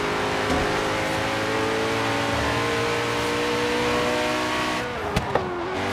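A Koenigsegg sports car engine drones loudly at steady revs, with a couple of sharp blips and pops near the end; no one speaks.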